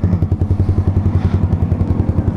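Yamaha R15 V3 motorcycle fitted with a LeoVince GP Corsa carbon short exhaust, heard on a dark public road: a loud, close, rhythmic engine burble with steady regular pulses and a deep throaty tone.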